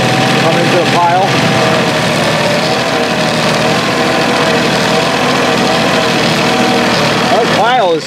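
A New Holland Workmaster 25 tractor runs at a steady mid-range engine drone while scooping frozen gravel with its bucket, loud and close, with brief hydraulic whines near the start and end.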